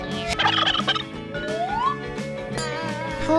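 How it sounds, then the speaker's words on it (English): A turkey gobbles in a short burst over a bright, busy children's music track that plays loudly and continuously throughout. "Turkey."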